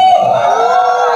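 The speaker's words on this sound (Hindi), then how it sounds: "प्लीज एक बार जोरदार तालियों से स्वागत कीजिए" At a film song launch for Bhool Bhulaiyaa 3, a crowd sends up a brief, loud burst of cheering and whooping, with shrill yells riding over the noise.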